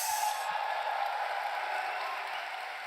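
A large audience at Gamescom Opening Night Live claps and cheers in a broad, steady wash of applause, moderately loud and continuous with no clear talk over it.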